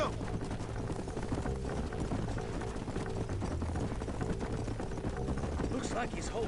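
Horse hooves galloping in Red Dead Redemption, a steady clip-clop rhythm under a dense game soundscape of music and ambience, with a voice talking over it.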